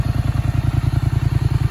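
A Polaris Scrambler 850 ATV with rear wheels set 10 inches wider idles and putters close by, its engine pulsing in a fast, even rhythm of loud low thumps.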